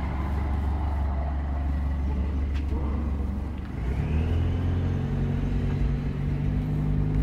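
A BMW F30 with an automatic gearbox on a race circuit, its engine rumbling steadily and close by, then dipping briefly before rising into a stronger, rougher drone as it pulls away. No one speaks.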